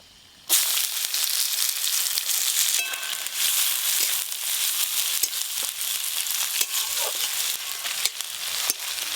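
Chopped onion dropped into hot mustard oil with whole spices, a dry chilli and bay leaf, erupting into a loud, sustained crackling sizzle after a quiet start, with scattered pops and stirring scrapes throughout.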